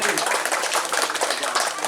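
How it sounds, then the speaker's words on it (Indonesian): An audience at a community gathering claps hands in a dense, continuous burst of applause, with a voice talking over it. "Tepuk tangan dulu buat Sukasari."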